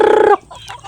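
A Visayan native hen gives a short, loud squawking cluck up close, followed by quieter faint chicken noises.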